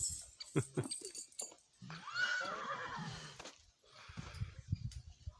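A mare whinnies loudly and shakily for a couple of seconds, with scattered hoof clops and shuffling around it, close by.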